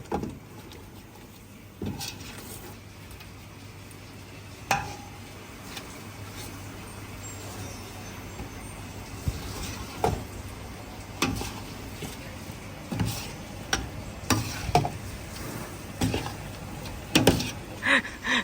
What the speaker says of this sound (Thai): จะผัดให้หอมนะคะ เพราะว่าเราต้องการความหอมจากกะทิแล้วก็ พริกแกง